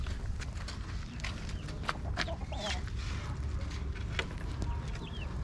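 Chickens and chicks cluck and chirp in short bursts over a steady low rumble, several birds close by, with no talking.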